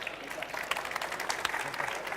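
An audience at a live cooking event applauds the chefs with a brief, fairly soft burst of scattered clapping that holds steady for about two seconds and then continues.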